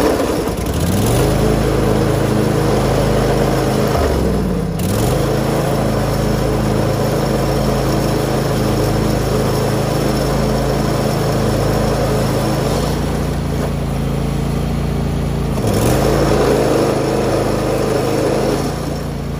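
A riding lawn mower's engine starts and keeps running, a loud close steady drone that dips and recovers a few times as the load changes.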